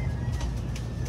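Pet pigeons in a loft give low, soft cooing under a steady rumbling background hum, with a faint high whistle above it.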